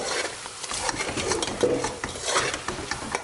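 Kadhi curry being stirred in a pot, a spoon scraping and clinking against the metal in irregular strokes over a faint sizzle, close and moderately loud, with no talking.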